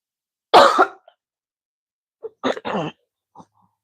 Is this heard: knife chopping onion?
no